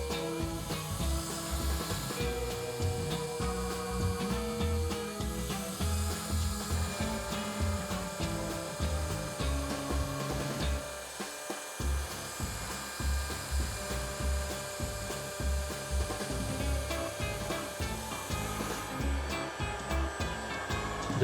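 A high RPM CNC spindle mills with light passes, a dense whining, chattering machine tone with rapid rhythmic cutting pulses, loud and continuous, briefly pausing near the middle before resuming.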